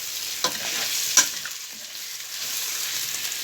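Chopped liver and garlic sizzle steadily in a hot pan while a utensil stirs and scrapes through it a few times, close and continuous with no talking.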